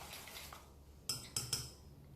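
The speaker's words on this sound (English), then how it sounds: "So I'm just whisking them together." A whisk works eggless chocolate cake batter made with psyllium husk by hand in a bowl, giving a few light metallic clinks and scrapes against the bowl, close and fairly quiet.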